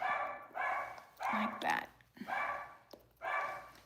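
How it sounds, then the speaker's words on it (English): A pet dog barks at home as a delivery person arrives. Several sharp barks come in quick bursts, mixed with someone talking nearby. "Now my dog's barking."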